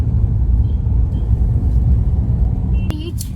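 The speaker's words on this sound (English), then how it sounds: "This is Central Bus Station, Bidar." Street traffic rumbles outside Central Bus Station in Bidar, a loud, low, continuous drone of passing vehicles with a brief high squeak near the end.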